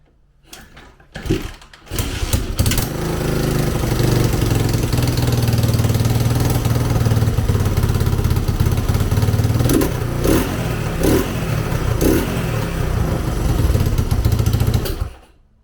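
A rebuilt 2000 Honda XR200R motorcycle engine, its valves freshly readjusted, runs steadily at close range for about thirteen seconds with a few brief revs near the end, then cuts off. No one speaks.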